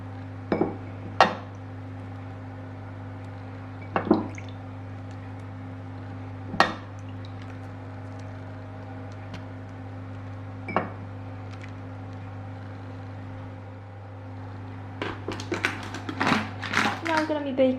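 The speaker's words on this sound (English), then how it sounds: "we're gonna cover with another the same size baking tray" Metal baking trays set down and laid over bread rolls before baking, giving sharp, isolated clanks spaced a few seconds apart over a steady hum, then a quicker cluster of rattling knocks near the end.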